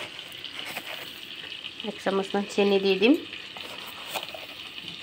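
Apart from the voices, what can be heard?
chicken frying in spices for dahi chicken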